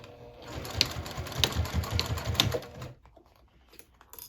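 A sewing machine stitching the seam of a small circle bag, running in short close bursts of rapid mechanical clatter with sharp clicks, then stopping into near quiet.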